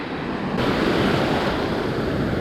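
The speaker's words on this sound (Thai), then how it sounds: "ดูดิมันคลื่นลมแรงมากอ่ะ" Strong surf and gusty wind at Patong Beach, Phuket, in the rainy season: a dense, loud, continuous roar of crashing waves with wind buffeting the microphone, swelling after the first half second, no voices.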